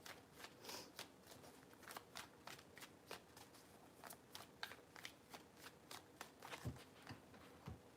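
Tarot cards are shuffled in quick repeated riffles, each one a sharp papery flutter. The bursts come in a brisk, fairly even rhythm, close to the microphone and quiet, with no voices.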